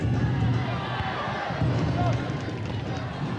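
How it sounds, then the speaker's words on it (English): Football stadium crowd at a 2000 S.League match between Gombak United and Tanjong Pagar United, a steady roaring cheer filling the background beneath an excited commentator's voice throughout. "Oh, the crowd are really enjoying this."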